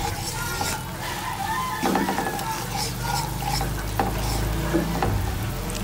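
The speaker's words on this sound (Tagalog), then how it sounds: "Mix lang po natin" Chili garlic sauce with sugar and black pepper is stirred in a hot pan, giving a continuous sizzle and frying crackle with scraping spoon strokes, close and steady.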